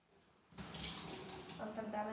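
Water splashes steadily into a container while making magic ice, starting after a quiet half-second and running continuously, close and moderately loud, with a faint voice in the background.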